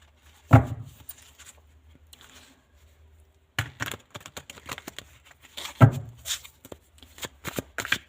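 Tarot cards are shuffled up close in two bursts of rapid riffling and snapping, split by a quiet pause.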